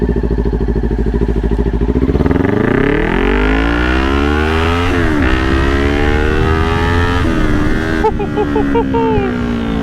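A Kawasaki Ninja 400 motorcycle rides at night, its engine revving up through the gears in loud rising sweeps, then easing and climbing again close to the microphone.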